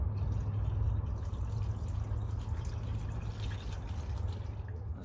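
Water trickles and splashes steadily as it fills the cooling system of a rusty Dodge 400 big block engine sitting on the ground, a continuous close pouring with a faint low rumble underneath.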